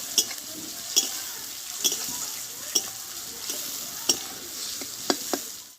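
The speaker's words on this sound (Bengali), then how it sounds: "পেঁয়াজটা আমি হালকা করে সেই জন্য ভেজে নেব" Onion frying lightly in a pan for egg ghugni, a steady soft sizzle with a spatula scraping and stirring at regular intervals, close by with no talk.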